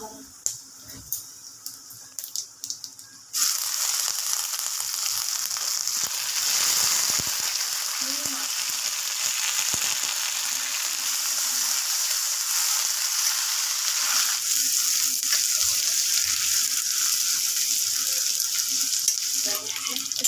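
Cumin, chilli and bay leaf tempering hit hot oil in a mung dal and papaya dish, bursting into a loud, steady sizzle after a few quieter seconds of faint kitchen clatter, continuing strongly to the end.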